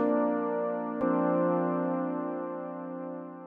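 A sustained, rich tone from a Behringer Wave synthesizer holds steadily with a brief click near the start, then slowly fades slightly.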